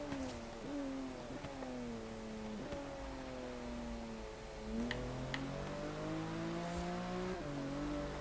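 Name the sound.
car engine accelerating in Forza Horizon 3 video game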